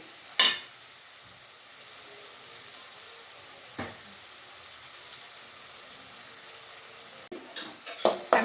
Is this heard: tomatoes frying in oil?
yes